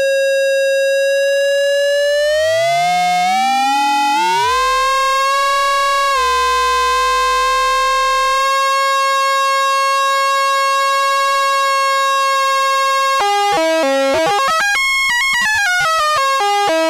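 An ARP Odyssey synthesizer tone glides and sweeps, then jumps between stepped pitches in a quick random pattern from sample-and-hold modulation toward the end; loud and steady, with no voices.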